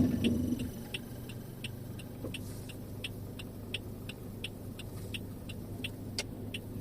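A car slowly reversing into a marked parking space, a low steady engine hum with a faint regular ticking over it, close and even, no voices.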